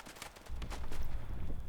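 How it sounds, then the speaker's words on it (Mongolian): Gunfire in the Standoff 2 mobile shooter, a few quick sharp shots followed by a denser, rumbling burst of fire, moderately loud with no talking. "Smoke-лоо буудаад 2 дахь килээ авчихлаа"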